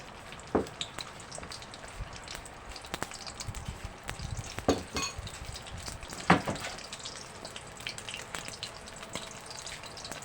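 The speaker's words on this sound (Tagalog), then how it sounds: "Dahil mainit na ang mantika, ilagay na natin si itlog." Egg frying in hot oil in a pan gives a soft, steady sizzle with occasional sharper pops and crackles, close and fairly quiet throughout.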